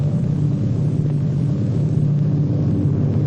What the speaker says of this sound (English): His plane is about 10 minutes away from the airport.